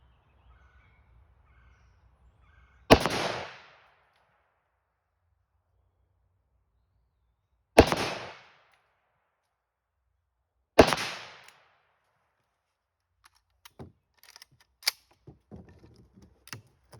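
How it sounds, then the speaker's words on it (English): Three loud, sharp rifle shots ring out from a Palmetto State Armory AK556, spaced several seconds apart, each with a short decaying echo, followed by faint scattered clicks and rattles. "Let's put some lead down there. Let's see what kind of groupings I can get."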